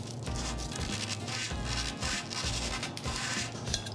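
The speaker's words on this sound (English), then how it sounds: "that's probably like 30 seconds of sanding." Sandpaper rasps back and forth over a compression ring part in quick, regular strokes, close and steady, with no talking.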